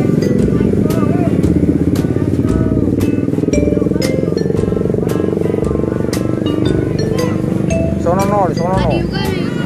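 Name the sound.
passing motorbike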